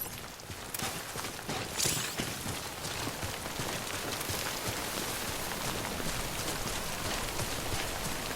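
Steady timefall rain in the video game Death Stranding pours down in a dense, even hiss of falling drops with faint footsteps, continuous throughout.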